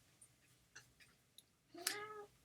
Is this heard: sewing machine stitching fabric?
no